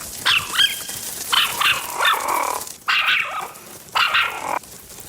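A dog named Fenny barks in four loud, close bursts spaced about a second apart, some sharp and yippy, with no voices over it.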